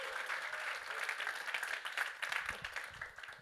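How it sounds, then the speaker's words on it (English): An audience at a SEVENTEENx Brisbane talk event applauds for an organiser, a moderately loud patter of many hands clapping that swells and eases for a few seconds. "give Mick a big round of applause"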